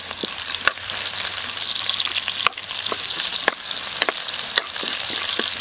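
Garlic and onion sautéing in a pan while beef dinuguan is being made, with a steady close sizzle of frying, plus occasional sharp clicks and scrapes of stirring and no talking.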